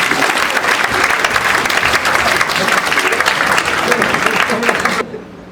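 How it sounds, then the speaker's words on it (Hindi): A live audience bursts into loud, sustained applause with dense overlapping clapping and some crowd noise, continuing for about five seconds before cutting off abruptly. "एक बार मेरे स्वाभिमान के लिए एक बार तालियां बजा दीजिए।"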